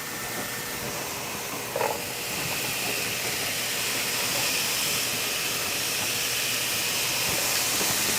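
Onions sizzle in a hot pan while meatloaf is being made, a steady broadband hiss running throughout with one brief clank near the start and the frying growing slightly fuller toward the end.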